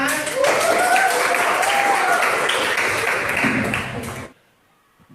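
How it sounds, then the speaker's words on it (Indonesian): Students in a classroom singing lesson clap together in a dense, steady burst of applause with voices mixed in, lasting about four seconds before cutting off abruptly into near silence. "Boleh tepuk tangan."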